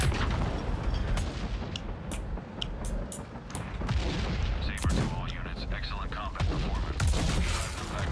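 Tank combat in the Cold War era game World of Modern Tanks, with repeated booming cannon fire and explosions as an enemy tank's turret is blown off, heavy blasts overlapping densely throughout with someone talking over them.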